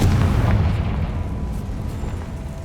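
A Confringo spell blast in Hogwarts Legacy, with a loud, sustained low explosive rumble that booms early and slowly eases off without fading out.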